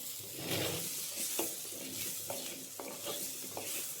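A medium chopped tomato stirred into a hot frying pan for a fish dish gives a soft, continuous sizzle with repeated scraping strokes of the spoon at a low, close level.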